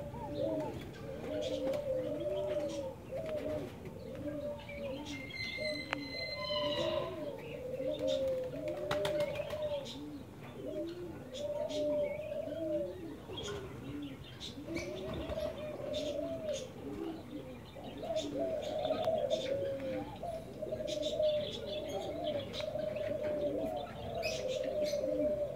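Diamond doves coo in soft, repeated low phrases at close range over a steady background, with a few higher chirps mixed in and no one talking.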